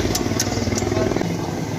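A motorbike engine idles with a steady low rumble and light mechanical clatter at close range, then is being switched off after a ride home, with no talking.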